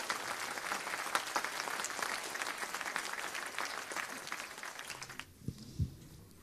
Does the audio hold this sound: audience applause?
yes